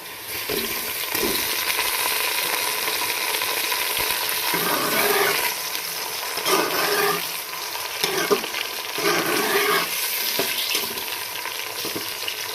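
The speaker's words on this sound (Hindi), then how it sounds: "अब हम इसमें डाल लेंगे चिकन" Chicken frying in ghee with golden-browned onions sizzles loudly and steadily close by, with periodic scraping stirs through the pan and no voices.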